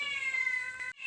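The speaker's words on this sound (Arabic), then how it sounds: "القطة دي خيلاني مش عاوزة تمشي، مش عارفة ليه." A cat meows once in a single clear, close, drawn-out call with a bright harmonic tone. It stops abruptly near the end, indoors during a homemaker's routine on a snowy cold day.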